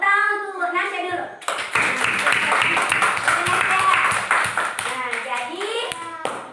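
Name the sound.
children clapping in a classroom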